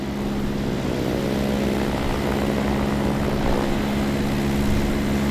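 The propeller engine of a fixed-wing training aircraft at a flight school airfield in Taitung drones loud and steady as the plane departs, a constant harmonic roar with no pauses.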